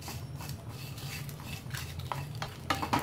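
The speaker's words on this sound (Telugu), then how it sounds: "వేసుకొని మిక్స్ చేసుకుంటూనే వీటిని డ్రై రోస్ట్ చేసుకోవాలి మాడకుండా." Poppy seeds and white sesame seeds dry roasting in a pan as they are stirred, a soft continuous scraping and rustling, with a low hum underneath and a few light clinks of the utensil near the end.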